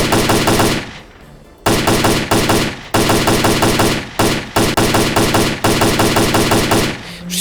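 Loud AK automatic rifle fire in the video game S.T.A.L.K.E.R.: Clear Sky, in repeated bursts, rapid cracking shots with short pauses between volleys.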